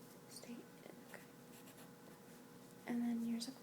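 Pen scratching on paper during a tax lawyer paperwork role play, soft intermittent strokes with faint whispery background and a brief louder tone near the end.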